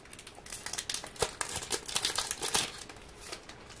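Crinkly foil wrappers of hockey card packs from a 2019-20 Series One tin being torn and opened by hand, a run of close, sharp crumpling and ripping bursts.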